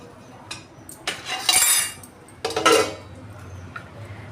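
Steel plates and utensils clink and clatter as a meal of kadhi and rice is served. A few sharp bursts of clinking stand out against a quiet room, each fairly close and brief.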